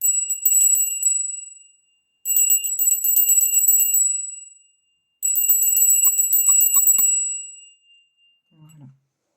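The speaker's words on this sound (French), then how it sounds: "je vais purifier votre énergie de chez vous à chez moi par petites cloches." Small bells ring in three long shimmering bursts separated by short pauses, bright and close, then fade to near silence.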